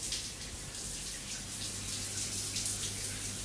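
Shower water runs in a steady, moderately quiet hiss, a continuous spray of falling water with a faint low hum underneath and no talking.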